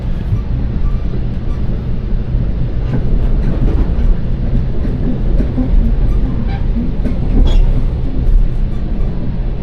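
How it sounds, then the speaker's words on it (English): Train rolling through Burlington, a steady, loud low rumble of rail cars with faint clatter running throughout, no voices heard. "Train going through Burlington right now."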